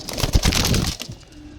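Pigeons coo briefly, close by, a soft throaty burst that fades out quickly.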